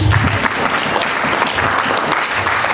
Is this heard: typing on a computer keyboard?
no